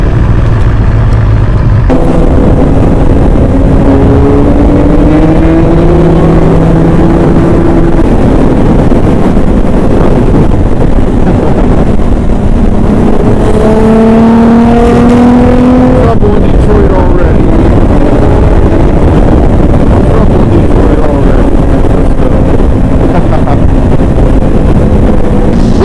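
Superbike motorcycles cruise on the road toward a gas station, with loud wind rush over the microphone and a steady engine drone whose pitch rises and falls through gear changes.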